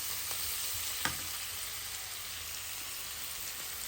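Baby carrots sizzle steadily in butter in a pan while being stirred, a continuous close frying hiss with one brief utensil knock early on, no talking.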